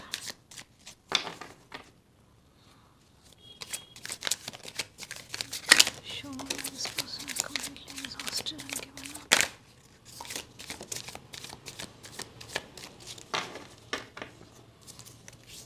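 Tarot cards being shuffled by hand in a reading, with repeated quick riffling and soft slapping bursts coming close and fairly loud, broken by short pauses.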